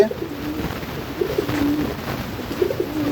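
A pigeon coos softly several times in low, throaty phrases, close by, over a faint steady background hiss.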